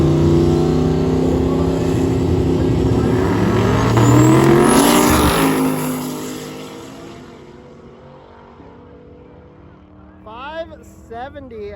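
A Corvette C8 race car accelerates hard down the near lane of a drag strip, its loud engine roar rising and peaking midway before fading off; a voice speaks briefly near the end.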